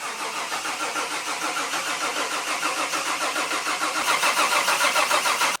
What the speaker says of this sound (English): we're gonna put power to the starter and build up some oil pressure, maybe about 20 seconds or so